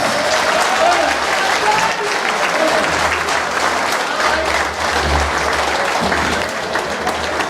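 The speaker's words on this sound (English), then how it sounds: "give yourself another round of applause" A crowd at a trade union meeting of the All Trinidad General Workers' Trade Union applauds in a sustained, loud, dense wash of clapping, with voices and cheers mixed in throughout.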